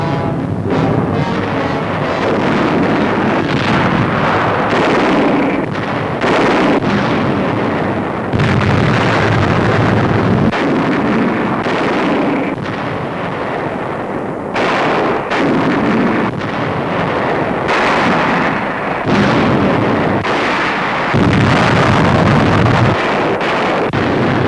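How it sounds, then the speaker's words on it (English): Repeated mortar shell explosions in a World War II newsreel, heavy bursts and rumbling blasts one after another over a windy, roaring background, loud and continuous without narration. "Mortar shells to be dumped on deeply entrenched Japs, fighting back from pillboxes and steel-doored caves on the island."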